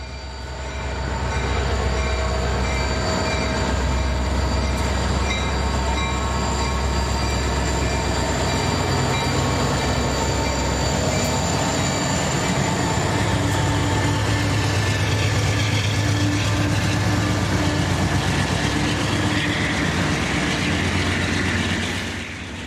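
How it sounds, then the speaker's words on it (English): An SD90MAC locomotive hauling a slow-moving empty coal train of hoppers, a loud continuous rumble of rolling wagons with metallic wheel squeal and ringing tones throughout, steady and close. "SD 9043 MAC number 8165 pops out from behind it with a slow-moving empty coal train."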